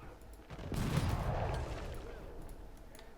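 Line infantry in a strategy game fires a volley, a dense burst of musket fire rising into a rumbling roar that lingers and fades, moderately loud.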